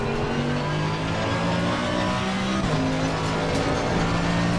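Mercedes AMG Evo GT3 race car in a sim racing game at Zolder, its engine droning loud and steady throughout with shifting pitch as it accelerates and holds speed on track.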